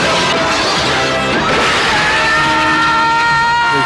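A loud crash of breaking glass, followed by shards ringing and tinkling as they scatter and settle.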